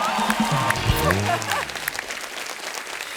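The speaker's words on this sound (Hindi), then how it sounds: "तालियां जोरदार होनी चाहिए" A studio audience on The Kapil Sharma Show claps and cheers as three guests arrive, the applause loud at first and then fading under the host's welcoming voice.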